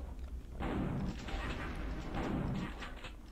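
A crate explodes in the 3DO game Return Fire, two heavy booming blasts about two seconds apart with rumbling tails, moderately loud.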